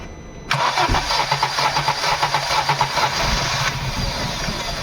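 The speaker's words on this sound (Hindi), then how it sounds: "बार बार यहाँ देख सकते हैं बंद हो जा रही है स्टार्ट होके।" A Honda Amaze with a suspected head gasket fault cranks with a rapid rhythmic starter chatter for about three seconds, catches briefly, then runs roughly and falters, heard up close and loud with no voices.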